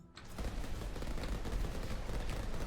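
Rapid, dense gunfire from a shotgun Gatling weapon build in the video game Soulstone Survivors, a continuous loud barrage of overlapping shots with no pauses.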